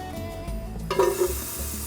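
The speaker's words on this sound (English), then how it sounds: "Nice sizzle" Onions hit hot oil with a sudden loud sizzle that settles into a steady hiss, with a few stirring clatters.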